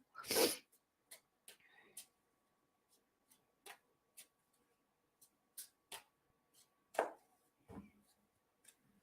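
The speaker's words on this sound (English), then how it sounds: "I want to sneeze." A loud, sharp sneeze bursts out at the start, followed by scattered soft clicks and taps, then another strong burst later on.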